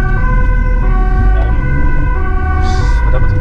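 An ambulance siren wails loudly and steadily at a residential fire scene with smoke, its tones cycling up and down over the rumble of traffic and engines, with no voices.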